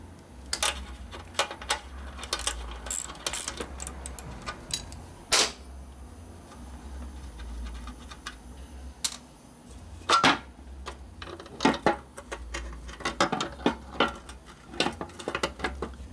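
Ratchet clicks and metal tool clatter while working on a 1973 Harley-Davidson FX Super Glide 74ci shovelhead motorcycle, scattered sharp ticks and knocks at irregular intervals over a low garage hum, fairly faint.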